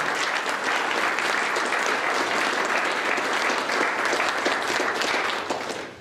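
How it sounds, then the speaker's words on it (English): Audience applause for community leaders at an event on building a STEM ecosystem in San Antonio, steady and dense clapping from a large room that holds for about six seconds before tapering off at the end. "let's give them a big round of applause"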